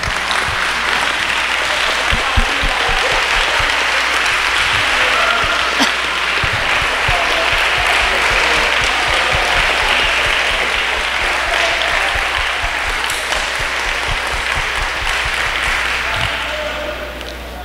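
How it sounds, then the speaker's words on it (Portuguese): A large audience at a family gathering event stands and applauds, a loud, sustained roar of many hands clapping that carries on for well over fifteen seconds before tapering slightly at the end. "E eu quero que a gente fique em pé e aplaudam a esses corajosos."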